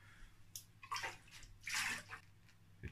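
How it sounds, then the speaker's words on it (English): Water is poured into a container to cover a rusty motorbike exhaust, producing a quiet run of splashing, gurgling bursts up close that swell briefly then trail off. "And then when it's in, just cover it with some water."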